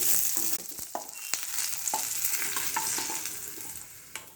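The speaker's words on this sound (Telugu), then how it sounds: "ఈ విధంగా ఫ్రై అయిపోనిచ్చేసి" Ivy gourd and green chilies frying in a pan for a pickle, a steady close sizzle with scattered clinks and scrapes of stirring, no one speaking.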